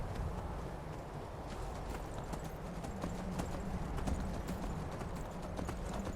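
Horse hooves clip-clopping in the video game Skyrim, a steady run of close, even hoofbeats over a constant noisy background, with no talking.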